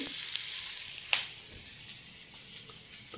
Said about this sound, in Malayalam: നന്നായിട്ടൊന്ന് വഴഞ്ഞു വരുമ്പോൾ നമുക്ക് കൂണിട്ട് കൊടുക്കാം.